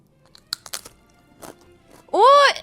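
A thick homemade potato chip, cut a quarter inch, is bitten and chewed, giving a few sharp crunches and cracks close to the mic, then a voice breaks in with an exclamation.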